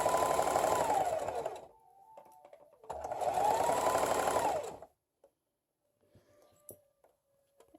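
A sewing machine runs a straight stitch near the edge of stretchy shirt fabric. The motor whirs loudly and steadily in two bursts of about two seconds each, separated by pauses with faint handling clicks and quiet shuffling.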